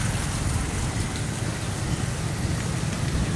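Typhoon rain pouring in Surigao City during a power outage, a dense, steady hiss with a low rumble, continuous and fairly loud with no voices.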